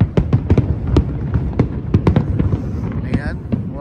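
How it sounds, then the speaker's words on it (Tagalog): Fireworks at a Chinese New Year celebration crackle and pop in sharp irregular bursts, some loud and near, with a whistling rise toward the end and people talking underneath. "Ayan, ito po fireworks."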